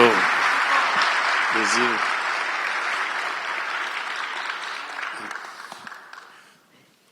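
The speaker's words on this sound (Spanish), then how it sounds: "El aplauso." An audience at a beekeeping conference claps in sustained, dense applause that slowly fades out. A voice speaks briefly over it at the start and again near the middle.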